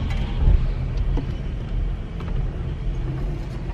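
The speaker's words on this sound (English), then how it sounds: "Y'all don't hear my car making that noise?" A car's engine running with an odd noise, a low continuous rumble heard close up with no talking.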